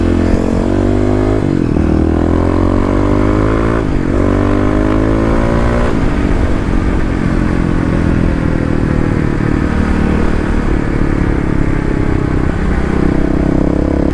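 Loud, close engine of a Kawasaki KLX351 dual-sport motorcycle with its secondary throttle blade removed, running continuously while riding, revving up and shifting through gears with a rattly, buzzing drone.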